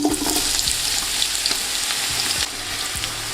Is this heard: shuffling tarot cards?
no